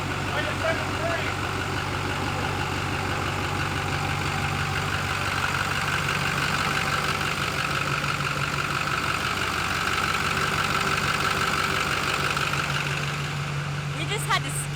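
A 1300 HP Duramax diesel truck engine, just started with starting fluid, idles loud and close with a steady, slightly knocking rumble that holds unbroken for about fifteen seconds, with faint voices mixed underneath.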